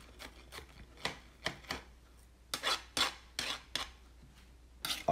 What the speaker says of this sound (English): We're going to cut it to as little pieces as possible